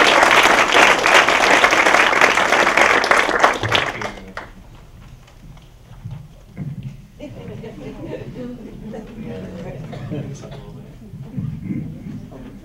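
An audience applauds to welcome speaker Jason Knight, with dense, loud clapping that fills the room for about four seconds and then drops away, followed by quieter room noise and voices.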